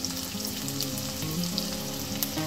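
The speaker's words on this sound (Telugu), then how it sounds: "మంచిగా గోల్డెన్ కలర్ వచ్చేంత వరకు వేయించుకోవాలి" Onions, green chillies and curry leaves fry in an oiled pan, a close, even sizzle with soft crackling that runs steadily without pause.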